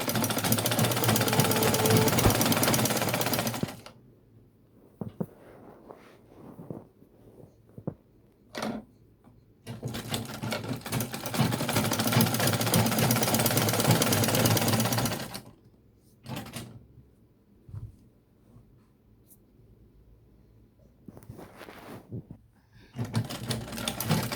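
A sewing machine top stitching Ankara cargo pants runs in three long bursts of rapid, steady stitching, with quieter pauses of handling between them.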